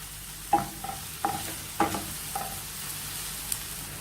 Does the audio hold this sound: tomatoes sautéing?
yes